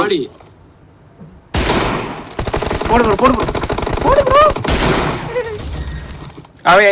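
An M24 sniper rifle fires in the mobile game BGMI: a sharp burst followed by a dense stretch of rapid gunfire, loud and close, with a voice heard over part of it.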